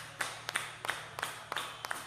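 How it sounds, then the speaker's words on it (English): A live-concert audience at a brewery claps in unison, six evenly spaced sharp claps in a steady beat over a faint low hum from the stage. "Clap your hands with me."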